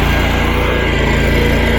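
A brand-new small engine on a concrete power buggy runs close and steady with a fast chugging pulse at a sidewalk pour, alone for about two seconds.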